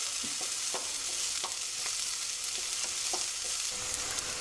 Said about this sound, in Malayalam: ഉള്ളി ഇപ്പം മൂത്ത് വരുന്നുണ്ട്.